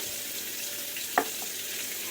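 Potatoes seasoned with salt frying slowly in oil give a steady, gentle sizzle with a single small pop partway through.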